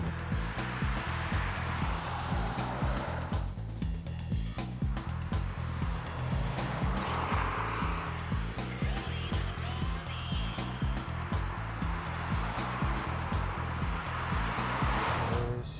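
Brabus car driving slowly past on a German road, a steady continuous engine and road rumble at moderate level throughout.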